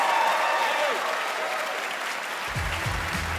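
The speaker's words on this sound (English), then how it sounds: "Everyone applaud above your head." Audience at a televised film and television awards ceremony applauding, a dense, steady wash of clapping filling a large hall, with a voice briefly speaking over it near the end.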